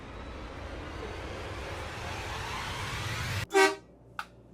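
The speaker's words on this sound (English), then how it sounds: "That is the air horn." Steady road rumble gives way to one loud blast of an RV's air horn, followed by a second shorter toot.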